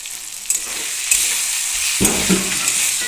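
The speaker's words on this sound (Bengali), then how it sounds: "এটা জিরে গুঁড়ো এটা ধনে গুঁড়ো দিয়ে এবার এটাকে ভালোভাবে মিশ মিশিয়ে দেবো" Ground cumin and coriander being stirred into a rohu fish curry with potato and drumsticks, a close steady sizzle broken by scraping spoon strokes and a louder bubbling stir near the end.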